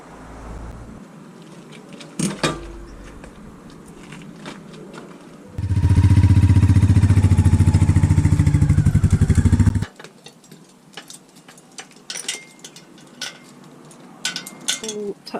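A Royal Enfield Meteor 350 motorcycle engine, just after its spark plug was cleaned and refitted, starts and runs loud and steady for about four seconds, with quieter clicks and handling noises before and after.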